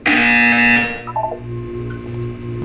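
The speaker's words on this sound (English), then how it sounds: "You will hear a buzzer." Portal 2 video game buzzer, a loud harsh electronic blare lasting about a second, followed by lower pulsing hum tones.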